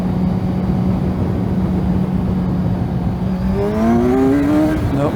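A car accelerates hard at full throttle across tarmac during a suspension and traction control test, a loud steady engine drone that climbs sharply in pitch toward the end, heard close with no talking.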